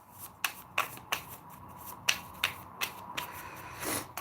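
Oracle cards are shuffled by hand in a quiet room, giving a series of soft, crisp riffles and slaps at irregular intervals, close and fairly faint.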